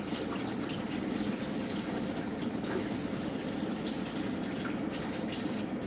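A running kitchen tap pours a steady, close stream of water as items are rinsed beneath it, a constant splashing rush with no talking.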